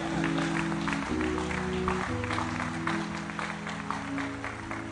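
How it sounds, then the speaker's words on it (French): A church congregation applauds steadily with dense overlapping claps while a sustained organ or keyboard chord holds underneath. "Acclamons la parole du Seigneur"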